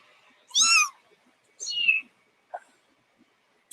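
Hungry young kittens waiting for a bottle of kitten milk replacer formula: two clear, close, high meows and a short squeak in a quiet room, with no talking.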